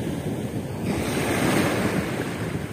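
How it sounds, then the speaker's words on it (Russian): Steady breeze blowing across a calm sea shore, with soft surf washing continuously beneath broadband wind noise on the microphone, no voices. "Единственное, сегодня какой-то ветерок дует."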